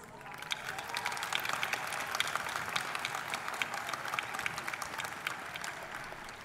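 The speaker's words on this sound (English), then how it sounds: "Let us thank them by giving them a big round of applause" Applause at the Clear Brook High School 2022 graduation ceremony, thanking teachers and staff, is a large crowd clapping in a fairly distant, steady patter of crisp hand claps that holds evenly from start to finish.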